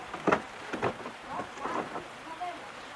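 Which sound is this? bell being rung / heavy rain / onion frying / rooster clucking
heavy rain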